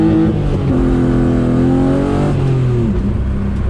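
A BMW E36 sedan with a welded differential revs hard and holds high engine speed while spinning a donut, the engine note rising and wavering loudly and close, with no talking.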